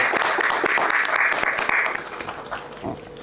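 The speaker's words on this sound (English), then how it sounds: "If you can have a round of applause for our expert panel, please" An audience applauds an expert panel at a vascular surgery event, brisk steady clapping that is strong at first, then thins and fades toward the end.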